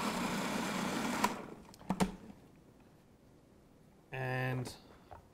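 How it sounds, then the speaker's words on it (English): A food processor blends spinach muffin ingredients in a loud, steady whir for just over a second and then cuts out. A short, tonal motor whine follows later, with no talking. "ingredients into the food processor and blend"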